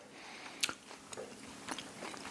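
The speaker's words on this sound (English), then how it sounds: "you start chewing on it, and you just end up with this big wad of fiber" Quiet close-up chewing of fibrous, tough-skinned grapes, a few soft crunchy bites and wet mastication sounds spread over a couple of seconds, no talking.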